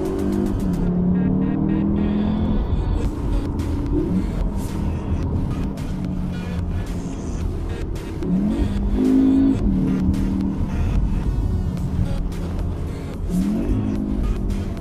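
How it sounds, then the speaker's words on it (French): A Cupra Formentor's engine roars steadily as it drives lakeside roads in Cupra mode, revving up and down through gear changes, loud and continuous with road and wind noise throughout. "passer sur les routes du lac du Bourget avec le mode Cupra"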